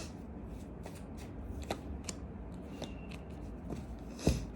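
Tarot cards shuffled for a Libra love reading, a steady, faint papery riffle with soft repeated snaps and one sharper slap near the end, no talking.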